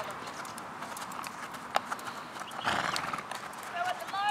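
A Standardbred horse walks during a schooling session, its hooves clip-clopping irregularly at moderate distance, with a brief snort or whinny-like sound and someone speaking nearby.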